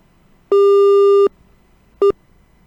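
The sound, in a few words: telephone busy tone after phone line connection dropped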